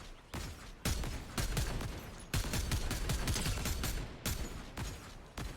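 Gunfire in Fortnite Zero Build, with dense bursts of rapid shots rolling almost without a break, loud and crowded, with short gaps between volleys.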